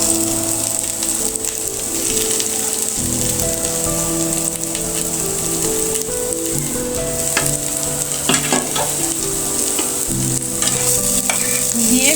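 Pieces of fish sizzle loudly in hot oil in a pan, a continuous bright frying hiss broken by scraping stirs and clinks of a utensil, close up with no talking.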